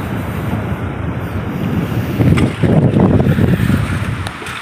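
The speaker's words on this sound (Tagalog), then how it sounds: "Ang lakas na hangin at saka alon." Strong wind and crashing waves surround a fishing boat at sea during a typhoon, a steady loud roar of gusts and water with buffeting surges, no voices.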